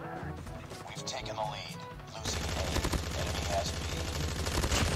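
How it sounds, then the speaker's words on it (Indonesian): Rapid automatic fire from an AK117 Aesir in a battle royale video game, a dense run of loud, fast shots that starts about two seconds in and keeps going to the end, with softer game sounds before it. "Jadi ketika kita nembak, efek-efeknya tuh itu menutupi banget mah"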